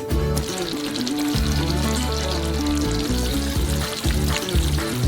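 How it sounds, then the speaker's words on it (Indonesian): Four pots of caramel made from corn syrup and water bubbling on a stovetop, a loud, dense, continuous sizzling boil with steady low tonal hum underneath; no voices. "Rebus karamel selama kurang lebih 10 menit"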